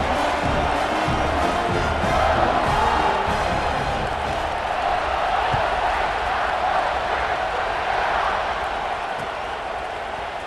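A football stadium crowd at kickoff sends up a broad, sustained roar of cheering and whooping, dense and distant-sounding and steady for the whole stretch, fading slightly at the end.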